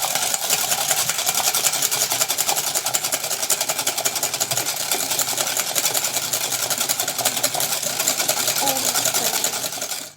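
Eggs and sugar beaten by hand with a fork, no electric mixer, producing a fast, steady, rhythmic tapping and whisking that runs loud and unbroken from start to finish.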